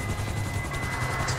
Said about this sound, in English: Dude, there's a giant ass helicopter.